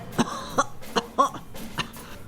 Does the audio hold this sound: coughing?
yes